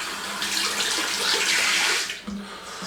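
Tap water pours steadily into a sink during a traditional wet shave, a loud, continuous rushing splash that shifts briefly near the end.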